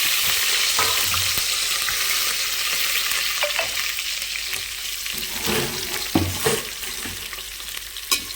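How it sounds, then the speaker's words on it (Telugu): Oil sizzles and crackles steadily as garlic, dried red chillies and curry leaves fry in a pan, with occasional stirring clatters and louder pops near the end. "నూనె అయితే కాగింది వెల్లిపాయ వేసేస్తానండి తర్వాత ఎండుమిరపకాయలు కరివేపాకు"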